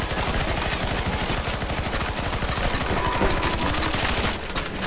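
Sustained automatic gunfire in Counter-Strike: Global Offensive zombie escape mode, a dense, loud, continuous stream of rapid shots filling the whole stretch with no pause.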